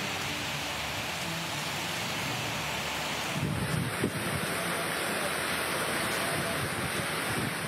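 Heavy rain driven by strong stormy wind over the town of Jember, East Java, a loud continuous roaring wash with gusts and a few thumps partway through, no voices.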